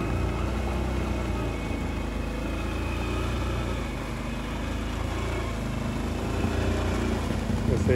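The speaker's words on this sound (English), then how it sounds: "you got pretty quiet there, the exhaust went underwater." A 4x4's engine rumbles low and muffled while its exhaust sits underwater in a swamp, a steady, dull drone that holds throughout.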